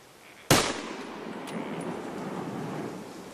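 A hunter's rifle fires once in the Arruí protected forest, a sudden sharp crack that fades into a lingering outdoor echo, with wind noise rustling afterward.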